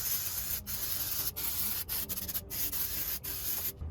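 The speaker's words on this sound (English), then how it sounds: "I'm gonna clean this up with some brake cleaner" Brake cleaner sprayed onto a rusty rear hub bearing assembly from a Toyota Highlander, a steady close hissing spray broken by several brief pauses, with no talk.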